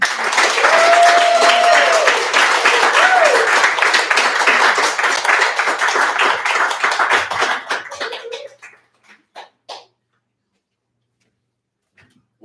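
A bar crowd at a poetry reading breaks into loud, dense applause with a voice briefly rising over it, then the clapping thins and fades into scattered last claps before near silence.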